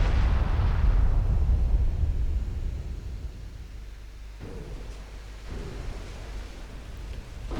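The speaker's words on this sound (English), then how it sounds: "Three torpedo hits on Odin." Heavy booming impact from torpedo hits striking a warship in the naval strategy game Ultimate Admiral Dreadnoughts, a loud low rumbling blast that slowly decays into a lingering roar, with a couple of softer thuds later.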